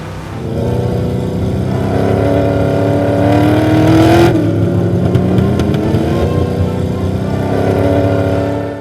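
A 1968 Dodge Charger rat rod roars along the road with its engine held loud and steady, rising into a stronger rev midway and then settling back to a sustained driving drone.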